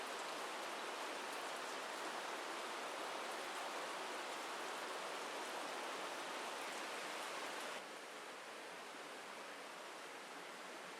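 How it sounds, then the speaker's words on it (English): Water drips and patters over rocks on a forest hike, making a dense, rain-like hiss that runs steadily and fairly quietly, then thins slightly near the end. "it's actually just water dripping over the rocks"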